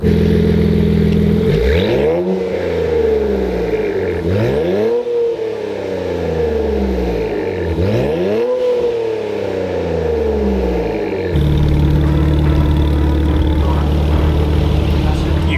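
A Nissan Z fitted with an AWE 3-inch exhaust revs repeatedly, three rising-and-falling sweeps followed by a steady loud idle drone, close up and with no talking.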